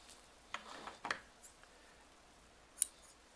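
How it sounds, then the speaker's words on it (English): Scissors snip apart serger threads on a Baby Lock Triumph, a few faint, quick cuts scattered through a quiet moment, with one sharper metallic click near the end. "I'm going to snip threads. Snip these apart, okay?"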